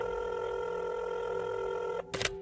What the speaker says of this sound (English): With her other hand, she grabbed her phone and dialed a number.